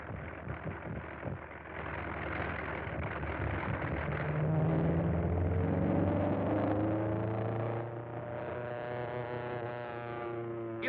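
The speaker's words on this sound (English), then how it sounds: "Sounds like he has engine trouble." Airplane engine running rough with engine trouble in a 1938 film soundtrack, a muffled, uneven droning hum that wavers in pitch and swells and fades over several seconds, with no talking.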